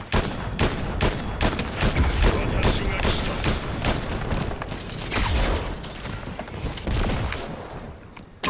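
Rapid bursts of gunfire in the Fortnite video game, dense overlapping shots and booms sounding close and loud throughout, with occasional voices underneath.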